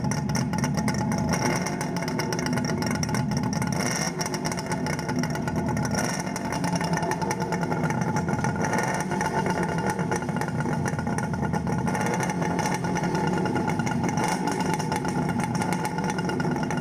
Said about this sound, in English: Rev it, Trev.